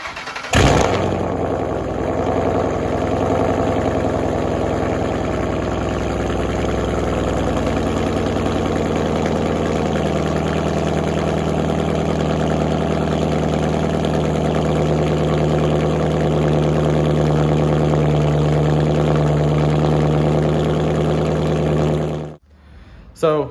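A car with C&L muffler deletes fitted starts and settles into a loud, rumbling idle with a slight rise in pitch partway through, close up, before the sound abruptly cuts off near the end.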